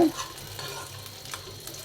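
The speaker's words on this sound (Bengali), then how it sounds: "তো আমাদের কিশমিশ, বাদাম আমরা ভেজে নিলাম" Raisins and nuts fry briefly in ghee with a soft, close sizzle and a faint stirring scrape.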